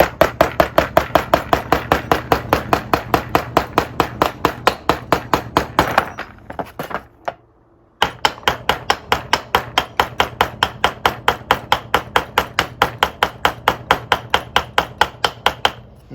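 Rapid, evenly spaced metallic hammer taps seat a distributor part into place, dozens of sharp close strikes, a short pause around the middle, then steady tapping again.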